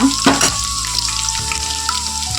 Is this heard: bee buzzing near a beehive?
no